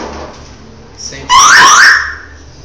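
A motorcycle sound system's alarm gives one loud, warbling electronic chirp of under a second, rising suddenly from a quiet background and then cutting off.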